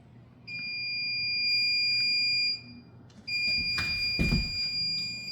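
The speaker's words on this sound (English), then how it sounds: "The alarm is pretty much just telling you that they're communicating right now." A Bluetti home and RV battery power system gives a high electronic alarm tone in two long sustained beeps separated by a short gap, with a brief thump during the second beep.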